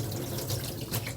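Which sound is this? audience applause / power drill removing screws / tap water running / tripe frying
tap water running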